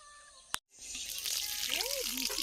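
Water poured from a container onto newly planted chilli seedlings, a steady broadband splashing and trickling that starts after a brief pause and runs on continuously, with birdsong faintly in the background.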